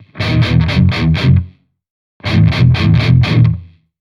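Heavily distorted electric guitar through AmpliTube 4 with a noise gate plays two quick rhythmic bursts, each cutting off abruptly into complete silence between them.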